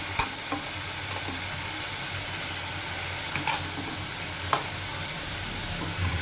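Chicken pieces with potato, fried onion and ginger-garlic paste sizzle steadily in a pan for a pressure-cooker chicken dish, with a few sharp spatula scrapes and clicks of stirring and no talk.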